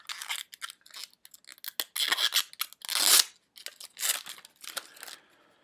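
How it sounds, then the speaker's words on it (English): Plastic wrap is peeled and torn off a Hot Toys Incinerator Stormtrooper figure's display base, producing close, crisp crinkling and ripping bursts separated by brief quiet gaps. "If I can get this plastic wrap off here,"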